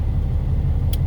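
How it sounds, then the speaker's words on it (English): A semi truck engine idles while warming up, a steady low rumbling drone close by and loud throughout, with a faint brief hiss near the end. "let your truck warm up."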